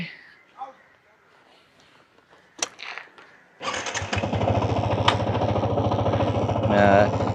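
A Yamaha MT motorcycle engine starts up midway and settles into a loud, steady, throbbing idle close by, after a quieter stretch of faint noises.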